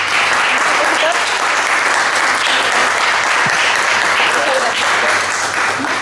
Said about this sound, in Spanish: le damos un gran aplauso